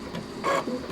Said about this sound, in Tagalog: Check rin natin kung magpipiding na siya or kakainin niya na yung bond paper natin.